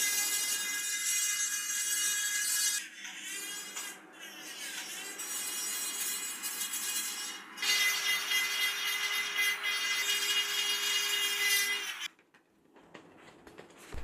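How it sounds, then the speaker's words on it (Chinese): Ancient human bone from a Jin dynasty tomb at Xiangfen is ground into powder with a motorized grinding tool, giving a sustained high-pitched whirring whine with gritty rasping. The whine shifts pitch and load several times before cutting out near the end. "人骨被打磨成骨粉收集起来。"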